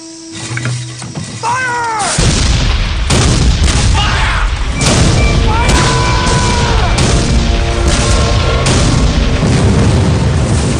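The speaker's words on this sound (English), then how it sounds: "It's the largest artillery barrage ever in the Western Hemisphere." Heavy cannon booms fire one after another about every second, loud and overlapping into a continuous rumbling barrage, with a few high tonal cries mixed in.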